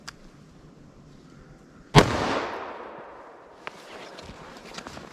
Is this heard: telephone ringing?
no